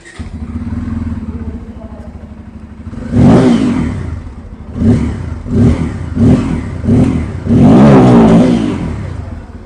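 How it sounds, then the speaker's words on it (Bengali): A Bajaj Pulsar N250 motorcycle with a dual-barrel exhaust idles with a low, steady engine note, then revs up in a series of sharp, loud throttle blips ending in a longer, sustained rev. The sound is close and there is no talk. "এখানে আপনারা এখন N250-র আওয়াজটা শুনে নিয়েছেন"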